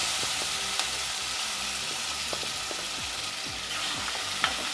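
Ground tomato paste hitting a pan of sautéed green chillies for tomato kurma, sizzling and bubbling continuously at close range with occasional spatula scrapes, no talking.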